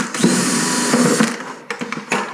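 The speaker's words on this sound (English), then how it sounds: "Just put that to the hole that you made and go ahead and start drilling." A power drill with a small bit bores holes while making fish habitats: a close, loud whirring that runs for about a second, stops, then returns in short bursts.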